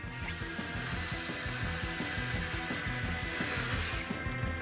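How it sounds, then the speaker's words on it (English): A power drill with a small bit bores a pilot hole through steel, giving a loud, steady high whine over a rapid rhythmic grinding chatter that runs for about four seconds before stopping. "measure out the center point and drill through a pilot hole with a small drill bit"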